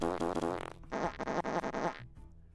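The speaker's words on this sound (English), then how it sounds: "Yeah, farts are very good. People love farts." A fart sound effect played on a livestream: a couple of loud, buzzy, sputtering bursts, the second one a rapid rippling flutter, with nothing else heard.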